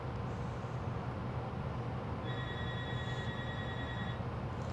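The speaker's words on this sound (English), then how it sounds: "Hold on, the phone is ringing." A telephone rings faintly in short electronic trills, partly buried under a steady broadband rumbling background.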